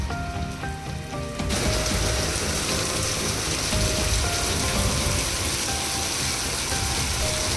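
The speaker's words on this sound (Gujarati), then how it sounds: "આજે મોડી રાત્રે રાજપીપળામાં પણ વરસાદ આવી ગયો હતો" Heavy late-night rain pours down in Rajpipla, Gujarat, a loud, dense, continuous patter on surfaces that swells abruptly after a quieter opening with faint tonal sounds.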